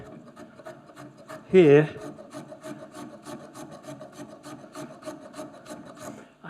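A spokeshave shapes an oak joiner's mallet in short, regular rasping strokes close at hand, with a voice briefly speaking partway through.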